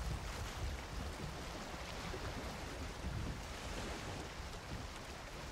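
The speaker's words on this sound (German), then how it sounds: "Dann fahre ich jetzt gegen den Wind." Boat sailing against the wind in Valheim: a steady wash of waves and blustery wind around the hull, soft and continuous with no voices.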